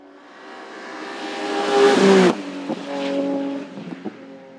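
A production-class rally car in the Beaujolais hillclimb at Marchampt roars past, its engine rising to a loud peak before the pitch drops sharply as it recedes, followed by further gear-change blips fading into the distance.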